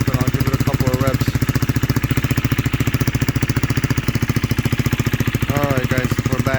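Husqvarna Svartpilen motorcycle with a newly fitted cheap aftermarket exhaust idling right after its first start-up, a loud, close, steady rapid thumping pulse with slight wavering, holding an even idle throughout.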